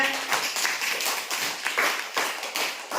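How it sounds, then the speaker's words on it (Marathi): Children in a classroom clap together in a brisk, fairly loud burst of rapid overlapping claps that carries steadily throughout. "टाळ्या वाजवाले"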